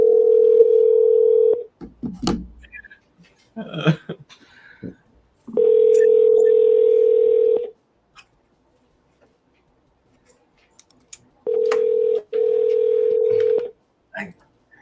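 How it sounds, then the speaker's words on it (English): An outgoing telephone call rings out unanswered, with several long steady ring tones separated by pauses and brief bursts of voices and background noise between them. "I'm shocked he's not answering the phone"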